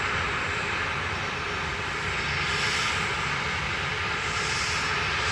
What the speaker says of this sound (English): Ethiopian 726 from Addis Ababa via Marseille, arriving now.